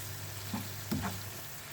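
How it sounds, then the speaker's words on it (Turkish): Steady sizzling of minced meat frying in a pan, with a couple of brief stirring scrapes; no voices. "Kavurmaya devam ediyoruz."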